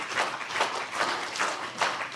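Children in an audience clap together in bursts, a bright, moderately loud patter that rises and falls in several waves with no voices over it.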